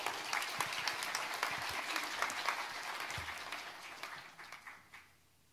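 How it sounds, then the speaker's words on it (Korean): A room full of people applauding in a church service, a steady wash of clapping that thins out and fades to a few last claps. "박수로 격려해 주시면 좋겠습니다."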